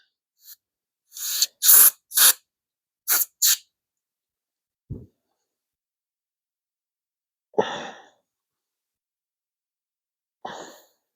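Short bursts of aerosol lubricant hiss onto a rubber weatherstrip seal on a Plymouth Duster A-body, several quick sprays in a cluster, then a few spaced single squirts, close and loud against silence.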